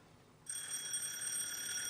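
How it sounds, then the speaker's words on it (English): A 1970s telephone starts ringing indoors, a sudden bright metallic trill that begins after a short quiet moment and keeps going, fairly faint. "Oh, phone."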